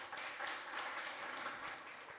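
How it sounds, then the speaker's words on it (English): Faint, distant applause from an audience honouring politicians at an agricultural sector event, a soft continuous patter of clapping at low level. "I think we need to give our politicians another round of applause."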